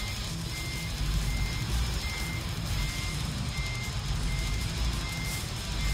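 A truck backs up with faint, regular backup beeps over a low, steady engine rumble, with no voices.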